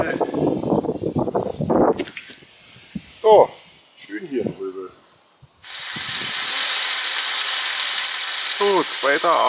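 Gyros meat frying in a pan on a camping trip in Röbel, giving a steady, close hissing sizzle across the second half, with someone talking over it and some clatter earlier.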